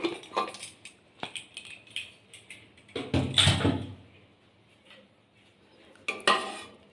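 The metal lid of a pressure cooker holding boiled chana dal is handled and opened, producing a run of close clanks, scrapes and rattles, with a louder clatter in the middle and another near the end.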